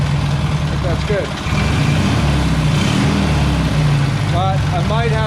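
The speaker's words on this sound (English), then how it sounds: "But I might have it idling a little too low now." A Taurus 650 engine idles low with a deep, steady rumble, loud and close, while people talk over it.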